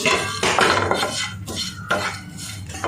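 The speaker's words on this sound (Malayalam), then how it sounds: "നമുക്കിത് നന്നായിട്ട് മിക്സ് ചെയ്ത് കൊടുക്കാം." Spice masala with coriander powder and curry leaves is stirred in a pan for steamed fish in banana leaves, with continuous close scraping and clinking of a metal spoon against the pan and a faint sizzle underneath.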